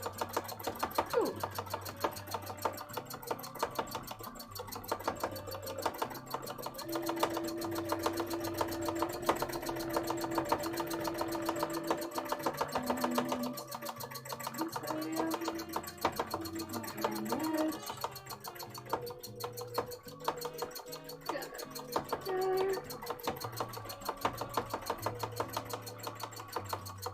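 A sewing machine stitches thread into a fabric plushie, a steady rapid mechanical whirring and ticking running throughout at moderate volume, with a few tonal hums layered over it and no talking.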